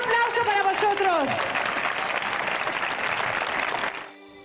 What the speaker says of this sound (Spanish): Familias de acompañantes, de pie y un aplauso para vosotros!